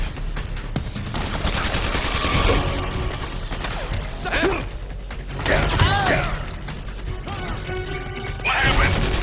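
Gunfire and crashing impacts in the Metal Gear Solid 4: Guns of the Patriots video game, loud and dense bursts with mechanical clatter across a busy battle soundscape, shouted voices mixed in.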